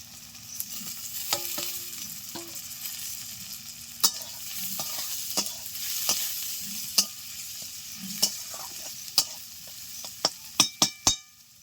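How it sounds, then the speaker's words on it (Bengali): Potatoes and shrimp fry with a constant soft sizzle in a pan, punctuated by sharp metallic taps of a spatula, quickening near the end. "এখন দিয়ে দিচ্ছি ভেজে রাখা আলু ও চিংড়ি মাছ"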